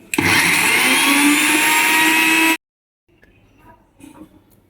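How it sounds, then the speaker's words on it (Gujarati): A kitchen mixer grinder crushes a spice masala paste with a little added water, roaring loudly and steadily for about two and a half seconds before cutting off abruptly, followed by faint handling sounds. "મિક્સીમાં આપણે મસાલો ક્રશ કર્યો એ આ રીતે"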